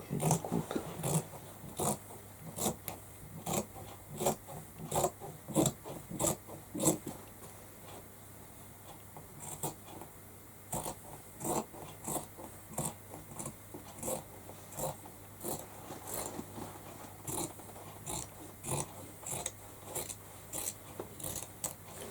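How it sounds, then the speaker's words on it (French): Scissors snip through fabric for a handmade plush toy, a long run of crisp, regular cuts with a brief lull midway, close and fairly quiet, with no voices. "Donc je découpe."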